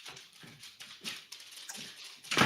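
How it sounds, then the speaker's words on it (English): A dog moves about in the background at home, giving faint, rhythmic soft thuds and scuffles in quick succession with no talking. "I could hear your dog in the back."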